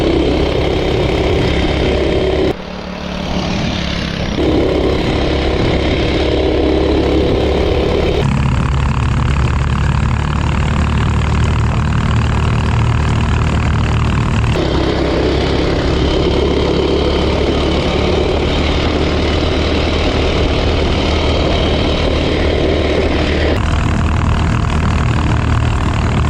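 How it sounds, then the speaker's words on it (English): A Coleman RSV minibike engine warms up, running at a steady, loud, close idle with a low rumble for nearly half a minute, interrupted by a brief dip early on and a few slight shifts in tone. "I'll run down here and warm up the bike first and see what top speed it has"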